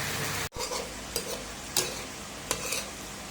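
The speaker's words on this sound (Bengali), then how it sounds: "এরপরে হচ্ছে আমরা নোনা শাকটা দিয়ে এখন কষিয়ে রান্না করতেছি" Salted greens with dried fish being sautéed in a pan, a faint continuous sizzle broken by a brief dropout and a few soft spatula scrapes, with no voices.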